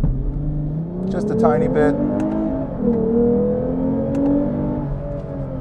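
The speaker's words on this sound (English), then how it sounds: "that should give you a good sense of what the sound is like from the V6 that we have here" A 2021 Lexus IS350 F-Sport V6 is floored to full throttle, and its engine note climbs and holds as a steady, rising drone. A brief voice comes in over the engine.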